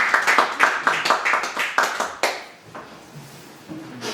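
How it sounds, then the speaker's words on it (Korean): A congregation claps hands at a university staff worship service, a burst of rhythmic, fairly close clapping that stops partway, followed by quieter room sound. "박수하겠습니다."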